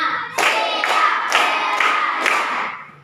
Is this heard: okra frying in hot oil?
no